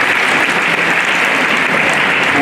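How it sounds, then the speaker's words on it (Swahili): A political rally audience claps loudly and steadily for county assembly members, a dense, continuous wash of applause close by with no break. "Tuwapigie makofi MCAs."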